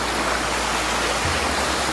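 Floodwater from a swollen river rushes through a breached embankment, a loud, steady, close roar of churning water with no break and no voices.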